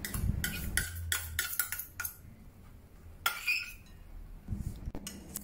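A spoon clinks and scrapes against a bowl while yong tao foo fish filling is mixed with light soy sauce, ground white pepper and chopped garlic: close, irregular bursts of clinking with short pauses, no talking.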